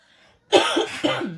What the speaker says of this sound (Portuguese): eu não vou voltar o vídeo por causa da tosse